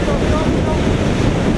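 Strong wind buffets the microphone over steady ocean surf off a shore during a military recon swim through waves about three metres high; a loud, continuous broadband roar with no distinct breaks.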